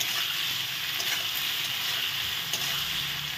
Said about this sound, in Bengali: সেই মাছগুলো এখন ভেজে নেব